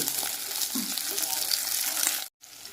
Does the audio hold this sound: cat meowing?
no